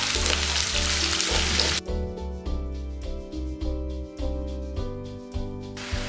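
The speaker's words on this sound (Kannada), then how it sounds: "ಅಲ್ಲಿವರೆಗೂ ಇದನ್ನು ಫ್ರೈ ಮಾಡ್ಕೊಳ್ಳಿ." Sliced onions frying in a pan for a spicy chicken curry, a steady close sizzle that stays loud throughout, briefly louder and brighter at the start before settling into a continuous fry.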